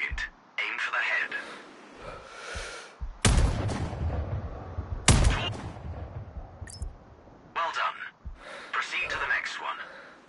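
Sniper rifle firing in the Sniper Contracts video game, two sharp loud shots a couple of seconds apart amid muffled game sounds, with a voice speaking between them.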